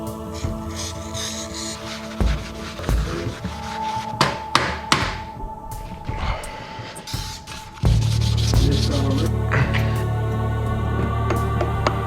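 Rubbing and scrubbing on a car's clutch flywheel, a close scraping texture with a few knocks and clunks, shifting into a steadier low mechanical rumble partway through.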